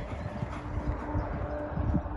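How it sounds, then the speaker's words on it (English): A racehorse's hooves clip-clop in a steady, rhythmic beat, fairly close and continuous over a low background rumble, with no one speaking. "Forward going horse."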